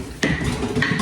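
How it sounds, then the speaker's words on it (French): A utensil stirs cookie dough in a bowl, making brief close clinks and scraping knocks against the bowl in quick succession. "Là on va tout mélanger."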